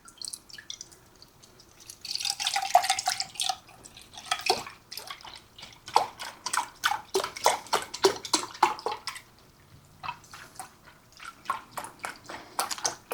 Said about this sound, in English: the last ingredient that's going in here now is 2 cups of beef broth